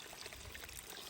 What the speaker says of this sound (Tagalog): May bukal.